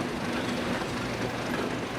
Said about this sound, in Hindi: पहली ट्रेन रवाना हो गई है।